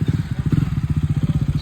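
A motorcycle engine idling at a biking night camp and KTM Adventure 390 launch, a loud, close, lumpy rhythmic thump of firing pulses with a slight mechanical clatter, no talk over it.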